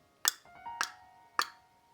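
A voice imitates a horse's hooves with three crisp tongue clicks, evenly spaced about half a second apart, close and clear against a quiet background.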